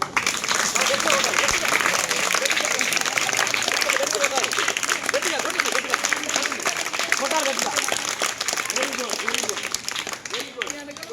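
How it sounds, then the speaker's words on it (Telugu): Students in a flood-affected area clap loudly together, a dense burst of applause that stays strong for several seconds and then thins out, with voices speaking over and around the clapping. "అందరూ ఒకసారి గట్టి చప్పట్లు కొట్టండి"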